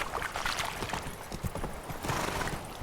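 The horse Roach's hooves clip-clop at a steady trot in The Witcher 3: Wild Hunt, close and clear with a faint snort, no talk over it.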